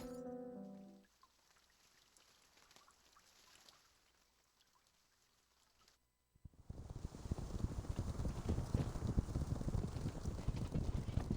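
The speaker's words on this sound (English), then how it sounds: "Thousands of war horses carrying fully armed cavalrymen travel to Tamarlavka, their heavy hooves pounding." After a faint, sparse opening and a brief pause, dense heavy pounding of war horse hooves from a cavalry charge surges in, loud and continuous, like a massed gallop in a fantasy video game.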